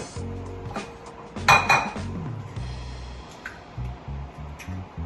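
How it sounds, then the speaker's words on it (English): A couple of eggs cracked into a bowl for French toast egg wash in a home kitchen: close clinks and taps of shell against dishware, with a sharp glassy knock near the middle and soft handling sounds around it. "we're going to crack a couple of eggs here"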